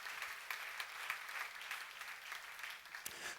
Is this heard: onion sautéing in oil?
no